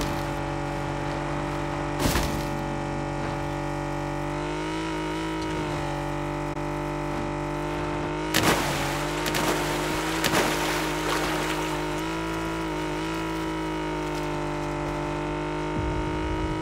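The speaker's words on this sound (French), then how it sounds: "Un aéroglisseur." A hovercraft engine drones steadily in an Xbox game, a constant tonal hum with layered harmonics, joined by a few sharp bursts of noise around the midpoint and near the start.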